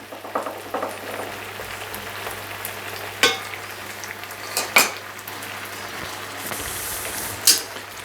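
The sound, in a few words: gnocchi vegetable pan simmering with orange juice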